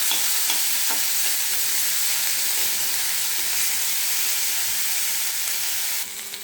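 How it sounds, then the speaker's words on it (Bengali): Green chili paste frying with onion and garlic in a pan gives a loud, steady, dense sizzle with faint scraping stirs, dropping slightly near the end. "এটাকে সুন্দর করে লাল লাল করে ভেজে নেব।"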